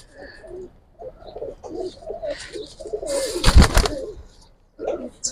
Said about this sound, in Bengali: এটা ভাই আমার অনেক একটা পছন্দের কবুতর